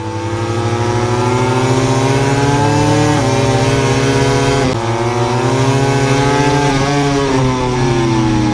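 Racing motorcycle at the 2020 Catalunya MotoGP, engine screaming loud and close as it winds up through fourth, fifth and sixth gears, with pitch climbing and brief drops at each shift.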